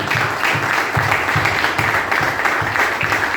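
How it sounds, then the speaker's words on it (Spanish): A church congregation applauds steadily during a sermon, a dense, loud, continuous clapping with a rhythmic pulse running underneath throughout. "¿Cuántos aplauden la misericordia de Dios este día?"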